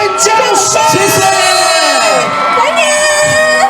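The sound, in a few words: crowd applauding and cheering a singer at a concert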